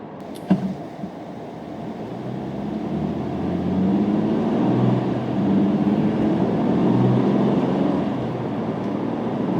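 A 2015 Honda Odyssey EX-L engine revs up steadily under acceleration, a droning hum that rises in pitch and loudness as the revs climb, heard from inside the cabin after a brief knock at the start.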